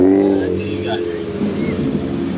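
A car engine revs loudly nearby on a street, a steady low rumble swelling briefly, with people chatting over it.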